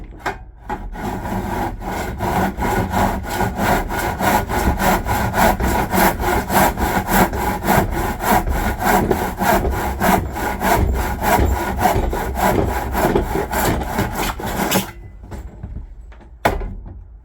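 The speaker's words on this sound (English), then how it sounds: "now we're going to cut 4 pieces with a 45 on each end at 36 inches from the long point to the long point" A hand saw cuts 45-degree angles into wooden pieces for a cross support, steady back-and-forth strokes running loud and close for about fifteen seconds before stopping, followed by a few faint knocks.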